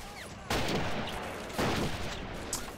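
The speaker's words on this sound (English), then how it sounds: "Oh, that's a machine gun." In the Faces of War game, two loud bursts of gunfire ring out about a second apart over a background battle din, each sharp onset trailing into a rattling decay.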